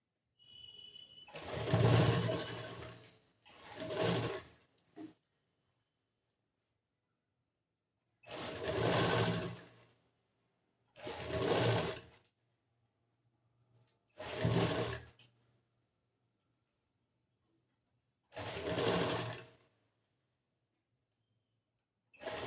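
Electric sewing machine stitching blouse fabric for a boat-neck blouse with back hooks and puff sleeves, running in short steady bursts of a second or two separated by pauses, close and fairly quiet, with no talking.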